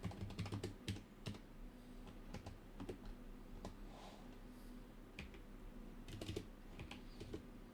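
Close, quiet typing on a computer keyboard as a command is entered, with bursts of quick clicky keystrokes and short pauses between them.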